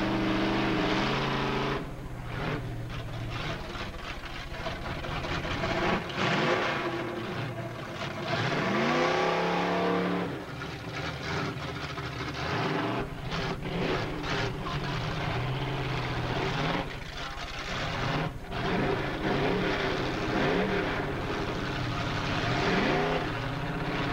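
A little red Camaro roars down a drag strip at Edinburg International Dragway in 1987, a loud sustained engine drone with rising and shifting pitch that fills the whole stretch, no voices.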